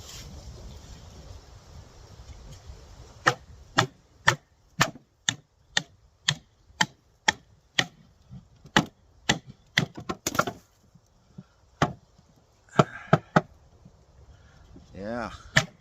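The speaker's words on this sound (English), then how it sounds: "I'm gonna take this knife through it" A BeaverCraft BSH6 Breeze bushcraft knife is batoned through tight-grained wood in a run of sharp, evenly spaced knocks, followed by a few irregular cracks and splitting sounds, with soft rustling at the start.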